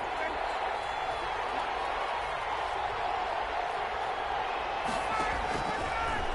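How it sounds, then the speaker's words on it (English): Stadium crowd roaring steadily throughout a football video game, an Atlanta Falcons matchup on PS4, a dense continuous wash of cheering ahead of a big third down, with commentary voices over it. "the crowd getting into it as we come up on a big 3rd down"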